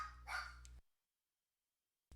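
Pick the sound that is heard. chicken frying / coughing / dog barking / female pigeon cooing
dog barking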